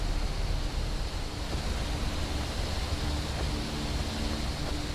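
Steady, full rushing roar of a waterfall in Skyrim's mountainous region on the way to Markarth, a constant broad wash of water noise with no breaks or voices.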